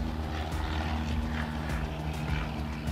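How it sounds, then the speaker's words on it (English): A propeller aircraft engine droning steadily at the busy Montgomery Gibbs Field airport, a continuous loud hum with a strong tonal buzz and no voices. "Very busy airport, this Montgomery Field, Montgomery Gibbs Field"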